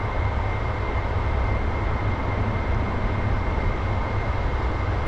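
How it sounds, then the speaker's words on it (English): An F-14B's speed brake extended in the DCS flight simulator, producing a loud, steady roar of wind rushing over the jet that holds constant from start to finish. "You'll hear like a weird wind noise. That's me deploying the brake to slow things down."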